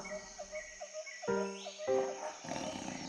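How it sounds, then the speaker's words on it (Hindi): A tiger roars in an animated Hindi moral story for children, a fairly faint, drawn-out growling call set against a wild forest backdrop with chirping birds and insects, with no voices. "कुछ समय बाद एक बाघ गरजते हुए उस तरफ आ गया।"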